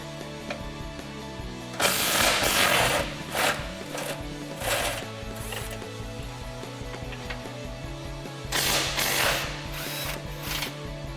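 A hand ratchet fitted with an 18 mm socket loosens skid plate bolts on a Jeep Gladiator JT, giving bursts of rapid metallic clicking interrupted by short pauses, close and loud with no talking.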